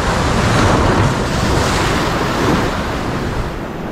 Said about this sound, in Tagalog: Ang paralakas ng alon.